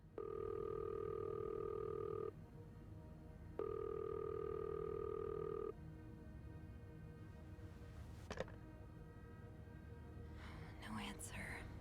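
A telephone in a darkened horror game setting where the power is out gives two long, steady tone bursts separated by a short gap, followed by quieter ambience and faint voice sounds.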